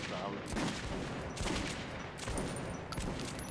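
Gunfire in the video game Metro 2033 Redux: several close, loud bursts of shots in quick succession, separated by brief gaps, with a voice speaking over them.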